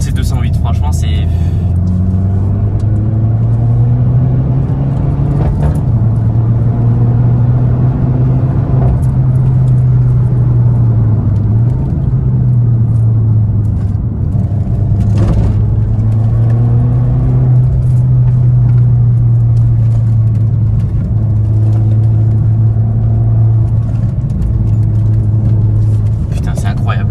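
Peugeot 208 GTi with BPS stage 2 tune, about 230 hp, driving on the road, its engine droning loudly and steadily as revs rise and fall through gear changes, with occupants talking over the cabin noise throughout.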